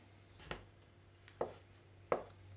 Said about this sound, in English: We mince the cheese and mix it with the soaked spelt